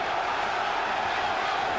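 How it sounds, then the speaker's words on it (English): A boxing arena crowd roaring steadily for Simon Brown during his bout with Tyrone Trice, a dense, continuous wash of cheering with no single voice standing out. "And you can hear the crowd."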